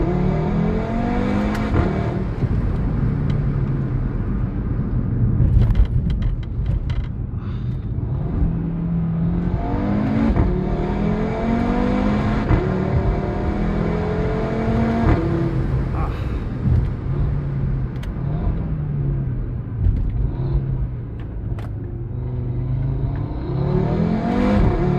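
A 2017 Audi RS3 8V2 driving a lap, engine revving and rising through the gears again and again with gear changes between pulls, heard from inside over continuous road and wind noise.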